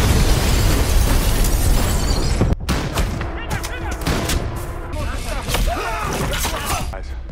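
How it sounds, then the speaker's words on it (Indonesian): A staged hostage-rescue firefight erupts in grenade blasts and rapid gunfire, with dense, loud, crackling bursts that drop off sharply into a rattle of shots and clatter as voices shout through the chaos. "lalu pecah dalam ledakan granat dan tembakan cepat"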